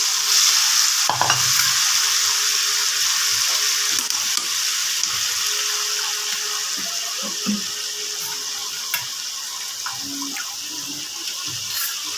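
Hilsa fish pieces frying in oil in a kadai with a paste of sour curd, poppy seed, cashew and mustard-chilli, giving a steady close sizzle with occasional stirring clatter and scrapes.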